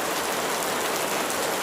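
Steady, loud rain pours down on a roadside at night, a continuous hissing wash of drops with no voices or other sounds.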